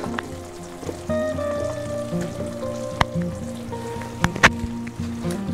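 Onion goes into a pan of frying meat for a Thai-style beef dish, giving a steady close sizzle with scattered sharp pops and crackles throughout.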